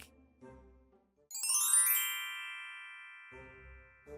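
A phone's ding-dong ringtone chimes once in a bright descending melodic sequence, clear and isolated in a quiet room, with faint low sounds before and after.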